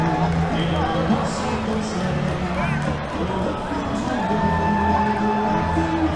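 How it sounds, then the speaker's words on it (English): A home crowd roars and cheers at a varsity high school basketball game after a big move, a dense, loud, continuous din with a commentator talking over it. "the Leominster crowd is going crazy with that move that Jeremiah has done"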